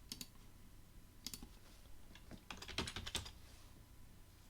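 Computer keyboard keys pressed while working in FreeCAD: a few scattered clicks at first, then a denser cluster of taps, close and fairly quiet, with no voice.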